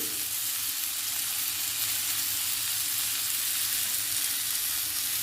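Curry leaves and tamarind fry in hot oil in a pan, a loud, steady crackling sizzle that runs unbroken and close throughout, with no voices.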